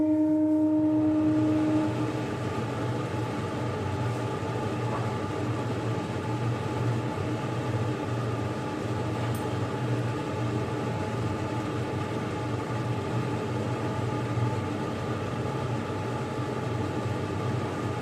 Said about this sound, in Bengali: চিমনিটা চালালাম